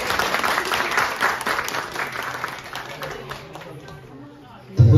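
Audience applause at a graduation ceremony as a vocal group is invited to the stage, a crowd clapping loudly under a speaking voice, then fading toward the end before a sudden loud thump.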